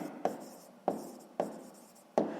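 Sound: writing down a maths solution

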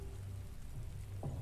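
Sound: rain spell falling in Divinity Original Sin 2 video game

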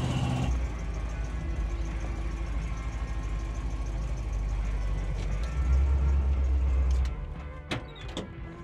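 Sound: International Harvester Scout II truck driving on the street

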